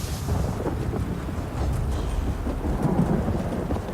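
Steady rain with rolling thunder from a video game where it rains all day, a dense continuous downpour with deep rumbles swelling throughout, no voices.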